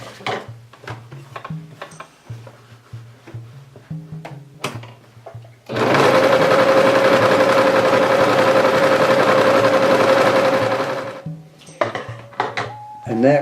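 Sewing machine running steadily for about five seconds while stitching the seams of a canvas teepee, a loud continuous whir framed by quieter knocks and handling of the fabric before and after.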